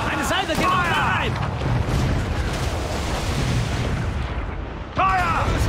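Booming ship cannon volleys in Assassin's Creed 4 Black Flag rumble amid a noisy naval battle din, with sharp bursts near the start and end of the clip.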